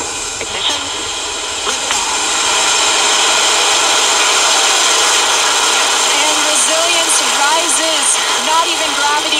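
A SpaceX Falcon 9 carrying the Crew-1 mission ignites its engines and lifts off in a loud, sustained broadband roar. The roar swells and stays strong from start to finish, while a voice talks over it.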